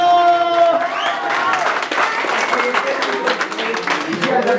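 Applause and cheering from guests at a quinceañera celebration, a steady burst of clapping mixed with crowd voices and a sustained tone at the start, loud and close throughout.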